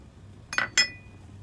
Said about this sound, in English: in a mixing bowl, we're going to add in our eggs